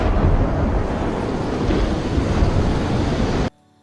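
A rider on a dangerous waterslide flung into the air lands with a loud, churning splash, steady rushing water and wind roar filling the whole stretch before cutting off abruptly at the end.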